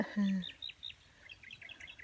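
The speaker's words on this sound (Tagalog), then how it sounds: "Maririnig niya 'yon huni ng ibon oh." Small birds chirp in quick, high tweets at a distance among many trees by a fishpond, following a short low sound at the start.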